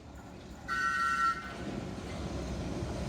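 A London Underground Piccadilly line train heading eastbound near Stamford Brook station gives one short whistle, sustained for about half a second over a steady low rumble of rolling wheels.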